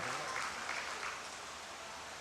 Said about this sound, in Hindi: मुझे लगता है कि तालियां कुछ कम रही उनके संचालन के लिए।